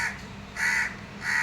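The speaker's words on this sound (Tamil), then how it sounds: "ஏய் காக்கா விடு." A crow caws three times in evenly spaced, fairly loud calls near a home, with short quiet gaps between each harsh caw.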